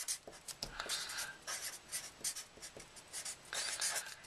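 Pen writing by hand on a paper flyer, with steady scratchy strokes in short bursts and brief pauses between words, close and fairly quiet, no talking.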